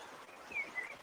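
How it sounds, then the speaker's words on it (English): Recorded birds by the water, heard as a few faint, thin chirps over a soft, hissy background, playing back quietly in a brief snippet. "You should be able to hear the audio of the birds in the water."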